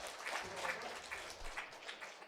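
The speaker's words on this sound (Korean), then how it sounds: "박수해 주시기 바랍니다." A church congregation at a Sunday service in Ulsan applauds during an award presentation, brief moderate clapping with uneven bursts over a couple of seconds, fairly soft and roomy.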